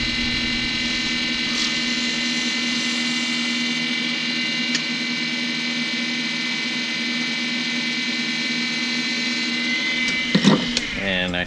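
A wood lathe turning a pen blank gives a constant, close mechanical hum and whine, with a knife tool lightly touching the spinning blank in smooth strokes and a brief scraping burst near the end.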